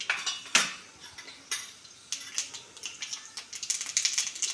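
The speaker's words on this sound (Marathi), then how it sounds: "मोहरी तडतडायला लागली की थोडेसे जिरे," Mustard seeds crackle in hot oil in a home kitchen, with sparse, sharp pops and clicks scattered irregularly at a fairly low level.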